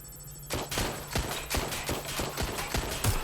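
Rapid bursts of gunfire in Watch Dogs Legion, a dense volley of loud, sharp shots repeating in an irregular rhythm after a brief quiet start, with no talk over them.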